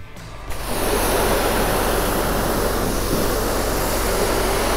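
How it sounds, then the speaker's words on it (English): A pressure washer starts spraying water onto a surface just treated with chemical cleaner, kicking in abruptly after a brief quiet moment and then roaring as a loud, constant, broadband hiss. "Now it's time to pressure wash."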